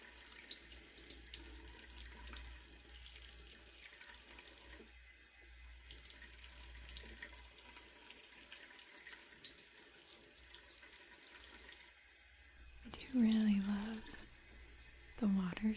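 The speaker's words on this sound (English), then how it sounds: "water sounds." Water running from a sink tap while makeup brushes are cleaned, faint trickling and splashing with soft clicks and taps, growing louder near the end as the flow picks up, with a soft-spoken voice over it.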